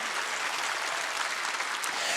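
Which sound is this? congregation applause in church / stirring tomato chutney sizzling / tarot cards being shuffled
congregation applause in church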